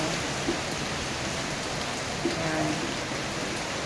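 Dense, steady hiss of heavy rain pouring down, constant and enveloping, with a brief spoken word in the middle.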